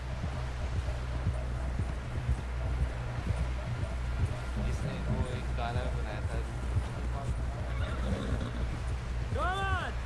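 Horse hooves clip-clop steadily on the ground in a Red Dead Redemption scene, with a clear neigh near the end, while people talk over them.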